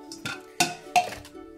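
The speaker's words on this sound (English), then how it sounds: "And cracking the eggs" Eggs are cracked into a bowl for apple pumpkin cupcake batter. Three or four sharp shell taps sound against the rim, each with a short ringing clink, close and clear with no talking.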